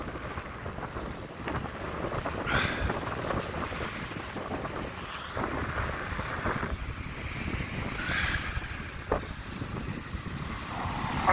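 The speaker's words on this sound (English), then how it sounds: "have a listen to the waves" Sea waves surging against Blackpool promenade in strong wind, a continuous rushing roar with repeated crashing swells and heavy wind buffeting on the microphone, loud and steady with no talk.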